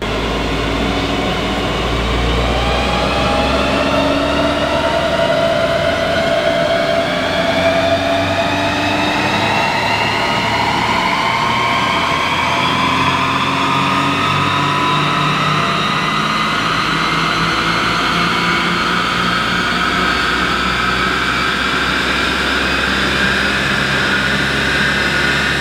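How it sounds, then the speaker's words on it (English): A Ferrari F430 engine revs hard and steadily on a dyno with a slipping clutch, a loud continuous roar whose pitch climbs slowly throughout, with no talk over it. "Ooh, they said the clutch was slipping."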